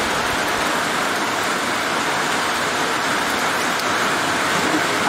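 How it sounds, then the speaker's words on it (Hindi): Steady, dense downpour of heavy rain, a continuous loud hiss with no pauses and no voices. "हाँ भयंकर बारिश हो रही है उधर"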